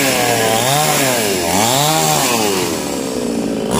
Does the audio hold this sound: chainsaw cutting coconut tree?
yes